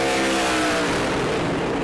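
A Pro Late Model race car, number 28, roars past at close range on a qualifying lap at New Smyrna, its loud engine whine sweeping by and blending into a broad rushing roar.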